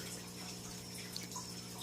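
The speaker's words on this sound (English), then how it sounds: "Water flows through the sand, gets polished" Water trickling through a sand layer in a homemade bottle power head filter, a soft steady wash of flowing water with faint drips, alone and quiet throughout.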